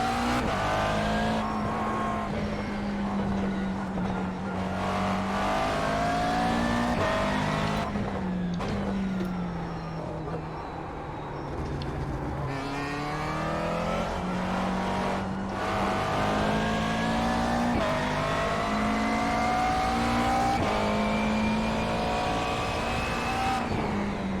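A Ferrari race car in the iRacing sim drives a circuit with a chicane. The engine drones loud and close, rising and falling through gear changes with repeated revving, and a faint tire squeal sits under it. There is no talk.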